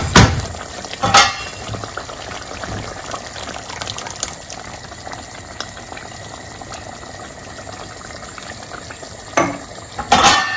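Tomatoes dropped into a stew of beetroot frying in a pan over medium heat, giving a steady bubbling sizzle with a few louder splashy bursts near the start and end.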